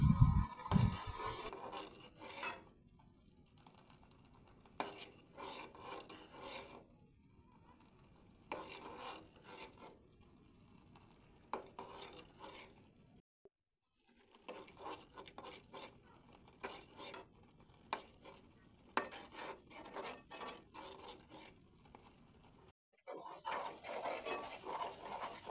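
Butter heated over a medium flame and stirred continuously in a pan to make ghee, with repeated metallic scraping strokes and faint sizzling, irregular bursts of clinking separated by quieter gaps.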